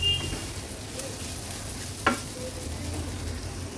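Pigeon pea kernels being stirred into a spice masala in a pan, with a steady faint sizzle of frying throughout and a soft spoon scrape near the middle.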